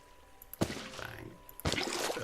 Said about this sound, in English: the water is flowing straight off the edge